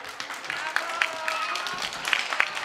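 Children's audience clapping and cheering for the actors of a puppet theatre show about saving a baby tooth, a steady, dense wash of applause with high excited shouts and whistles rising through it.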